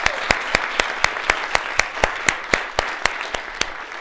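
Audience applause at a Harvard Extension keynote event: a loud, sustained wash of clapping with sharp, evenly spaced claps standing out in a steady rhythm.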